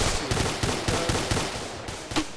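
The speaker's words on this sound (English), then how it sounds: "Section incoming from south-southwest, suppressive fire." Suppressive gunfire in a military combat game, a rapid run of sharp shots in irregular bursts, several close cracks spaced a fraction of a second apart against a dense rumbling battlefield backdrop.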